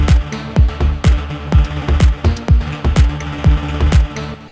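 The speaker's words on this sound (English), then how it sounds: "use of big fat ukulele sound" Big, fat overdriven synth with a plucky ukulele-like tone, playing a bouncy, rhythmic pattern of short hits over a driving low pulse, loud and dense with no one talking.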